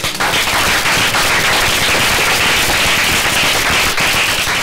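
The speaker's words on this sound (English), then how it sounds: "how about a round of applause for everybody who missed tonight?" A dense, loud burst of audience applause fills a start-up challenge event for women entrepreneurs, steady and continuous throughout with no pauses.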